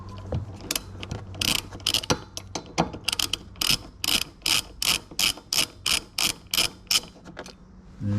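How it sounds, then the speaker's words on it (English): Ratchet wrench backing out 10mm bolts from the CV cover of a Yamaha side-by-side, close rapid clicking in regular bursts with a rhythmic back-and-forth cadence. "we've got two 10mm bolts that need to come out"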